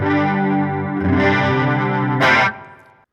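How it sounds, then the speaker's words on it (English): Sustained electric guitar chords swirl with a shimmering, wavering chorus pedal effect, ending in a brighter strummed chord that cuts off quickly. "We've also got a chorus"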